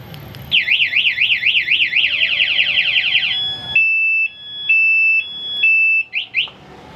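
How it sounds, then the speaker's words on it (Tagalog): Two-way vehicle security alarm sounding after locking, a loud rapid warbling siren followed by pulsing steady electronic tones and short chirps, close and alone without talk. "O, ayan, sususi natin para mag-alarm pag ninakaw."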